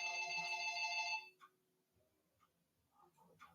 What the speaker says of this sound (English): after my phone stops ringing.